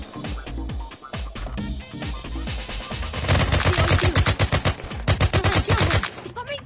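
Rapid gunfire rings out in a first-person shooter video game, starting as scattered single shots and building into dense, fast automatic bursts, loud and close.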